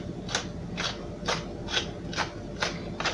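Fresh pepper is ground over a keto egg pizza, with six evenly spaced ratcheting twists of a pepper mill, close and rasping, with no talk.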